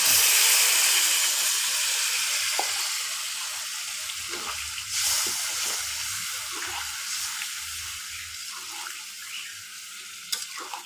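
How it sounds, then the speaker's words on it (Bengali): Duck curry (spiced duck meat bhuna) simmering in a pan after hot water is poured in, giving a steady close sizzle and bubbling hiss with occasional stirring clinks, no voices. "আমি এখন এতে দিয়ে দেব পানি। পানিটা আমি গরম পানি ব্যবহার করছি।"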